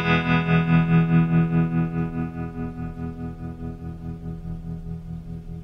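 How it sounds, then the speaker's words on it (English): An electric guitar chord rings out through a Danelectro Filthy Rich tremolo pedal on its soft setting, a pulsing throb that slowly softens as the note decays, played alone without talk. "I've hooked up my Dan Electro Filthy Rich tremolo pedal,"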